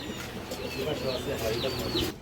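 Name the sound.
pigeons cooing on a pigeon farm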